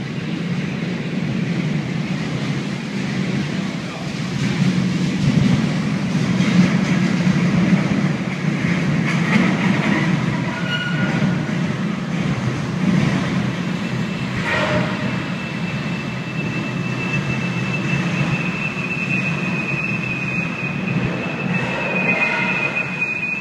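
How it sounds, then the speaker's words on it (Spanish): A long, empty freight train with a derailed wagon rolls on steadily, a continuous heavy rumble of wagons and wheels with thin metallic squeals rising near the end, heard alone. "el tren siguió moviéndose como si nada hubiera sucedido"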